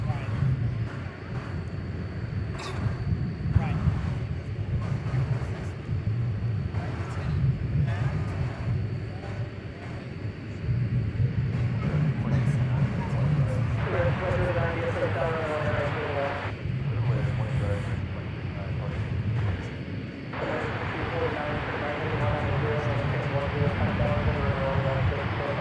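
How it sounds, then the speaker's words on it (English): Airbus A319 airliner waiting for takeoff at Dallas Fort Worth airport, a steady low jet engine rumble with broad wind-like hiss running throughout, rising slightly partway through, with a thin high whine on top. "An A319 poised for takeoff."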